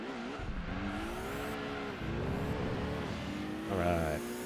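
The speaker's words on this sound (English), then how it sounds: "You can hear this car sliding so much more than the Supra I was driving." A car in the racing video game Gran Turismo 2 slides and drifts, its steady engine drone rising and falling in pitch while tire noise comes through, loud and continuous.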